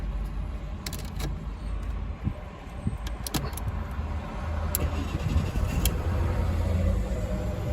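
A car engine runs and warms up at idle around 1000 rpm, a low steady hum close by, with keys jangling and a few sharp clicks on top.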